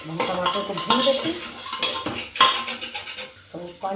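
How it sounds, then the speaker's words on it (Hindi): Tomatoes with salt and spices frying in a hot pan on a gas stove, a spoon scraping and clinking against the metal as they are stirred, with a soft sizzle underneath and no talking. "हम टमाटर को भून देते,"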